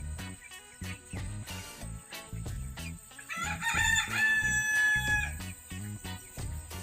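A rooster crows loudly over clucking free-ranged Lohmann Brown hens, the long crow rising and holding midway through, with steady rhythmic clucks and pecking sounds close by throughout.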